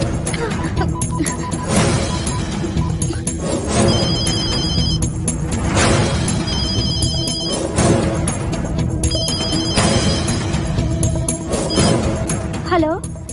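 A telephone rings repeatedly in regular bursts in an Indian Hindi film, loud and close, over a dense background of music and noise.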